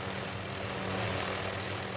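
A helicopter flies from Juneau, Alaska, to Admiralty Island, a steady, dense rotor and engine drone that holds even and continuous throughout, fairly soft with no voices.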